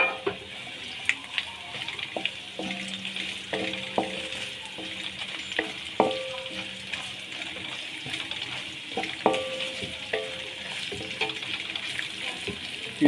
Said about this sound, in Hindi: इन सारी चीज़ों को आपने तकरीबन 2 से 3 मिनट के लिए ऑयल में भूनना है